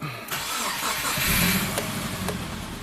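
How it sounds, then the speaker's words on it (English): A Subaru engine cranks and fires up close by with the purge solenoid unplugged, then settles into a steady idle with a few faint clicks in the background. "Turn it on with the purge solenoid unplugged. Alright, here we go. Let's start up."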